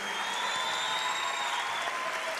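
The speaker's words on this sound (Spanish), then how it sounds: "Fuerte el aplauso" Applause from a concert audience for the Trópico big band in Medellín, a steady dense clapping that fills the whole short stretch at close range, with no speech over it.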